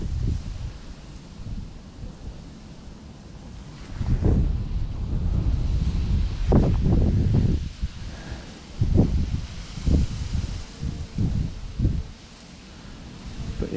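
Gusty wind beside the River Thames during a winter fishing match, with low buffeting roars against the microphone that rise and fall in bursts over a steady background rush.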